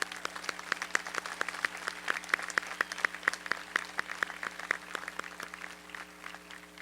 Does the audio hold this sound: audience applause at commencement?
yes